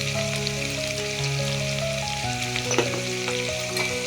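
Vegetable sambar with turmeric and salt is stirred in a hot pan, giving a constant close sizzle with occasional scraping taps, under faint steady musical tones.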